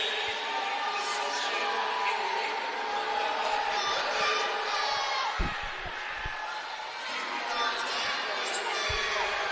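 A crowd cheers and shouts steadily for a swimmer at the NCSA Age Group Swimming Championships finals in Orlando, Florida, a broad, constant roar that runs beneath an announcer's voice.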